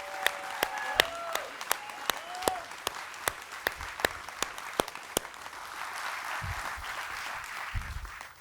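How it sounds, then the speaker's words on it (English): Audience applause for Andrea at a cruise ship christening, sustained crowd clapping with sharp individual claps standing out near the front, steady through the whole stretch and fading slightly toward the end. "Let's give Andrea a huge round of applause."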